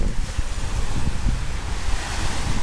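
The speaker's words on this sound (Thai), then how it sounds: "ออกมาก็เป็นทะเลเลยนะครับ เป็นรีสอร์ทติดทะเลนะครับ" Sea waves wash onto the beach of a seaside resort in Pattaya, a loud continuous surf roar mixed with wind buffeting the microphone, no voices.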